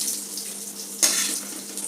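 Water running from a tank tap in a steady hiss, with a brief louder splash midway as the flow hits something.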